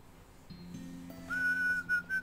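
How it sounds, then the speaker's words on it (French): Whistling in the video game Broken Sword 5: a character gives a short whistled tune of a few clear, sustained tones that rise and hold near the end, heard alone over a quiet background. "Est-ce que tu peux ressiffler, s'il te plaît?"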